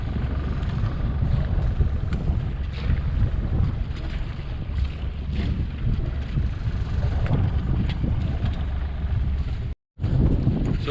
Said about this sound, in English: better show you that I am actually sailing my way around these